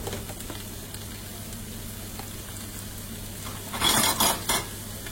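Duck breast cooking in a small knob of butter in a frying pan, a steady low sizzle that swells into a louder, brighter crackle near the end, with faint utensil taps.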